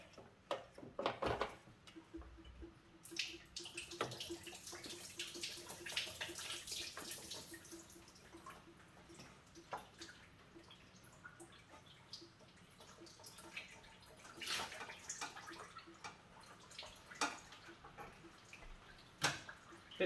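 Water drains out of an engine rod hose during an engine tear-down outdoors, faint trickling and dripping with scattered ticks and clatters, no voices.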